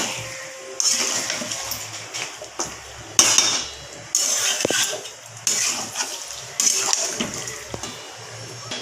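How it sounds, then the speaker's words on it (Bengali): Chicken stirred with spice masala in a metal pot. A spoon scrapes and clanks against the pot close up, in repeated bursts about a second apart. "আমি ভালোভাবে নাড়িয়ে নিচ্ছি দেখতে পাচ্ছ ভালোভাবে মিলিয়ে মিশিয়ে নিচ্ছি মশলাটার সাথে মাংসটাকে"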